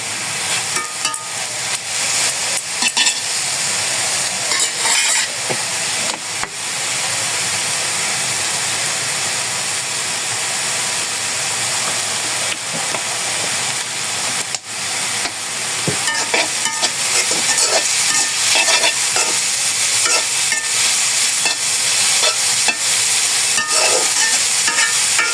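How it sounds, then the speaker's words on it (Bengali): Flat beans (shim) stir-fried in oil, giving a steady, loud sizzle and hiss with scraping stirs throughout, close by and with no talk. "আর একটু ভেজে নামিয়ে ফেলবো"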